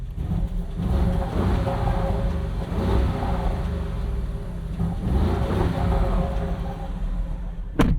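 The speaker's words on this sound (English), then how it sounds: "When you put it into sport, valves open, making our 4-liter just that much louder." Deep, steady V8 exhaust rumble from a 2024 Porsche Cayenne S with its 4-liter engine in sport mode and valves open, loud and sustained with slight swells in intensity.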